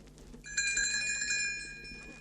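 A small bell tinkles brightly after a brief pause, a clear ringing shimmer that rings on and slowly fades.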